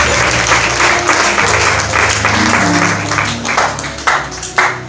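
A church congregation breaks into loud, dense applause and clapping that fills the room steadily, with a few voices and tones mixed in before it thins toward the end.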